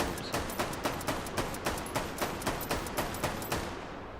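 Unsuppressed gunfire from a weapon in the VR shooter H3VR cracks in a steady rapid series of about fifteen evenly spaced shots, each a sharp pop with no voices over it.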